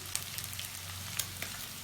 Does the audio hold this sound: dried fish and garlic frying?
yes